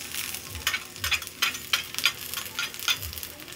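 Garlic sizzles in super hot cooking oil in a pan, a close, crackling fry marked by bursts of spatter and soft stirring scrapes at a fairly quiet level.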